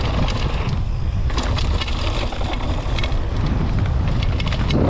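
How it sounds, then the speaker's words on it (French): Strong gusting wind at the Les Gets bike park, buffeting the microphone with loud low rumble and roaring noise throughout, no voices over it. "Il y a quand même pas mal de vent"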